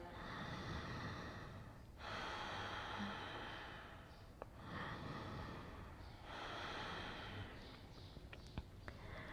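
Slow, deep breaths during a yoga class, each long airy inhale or exhale lasting about two seconds in a steady cycle, faint and close, with a few small knocks in between.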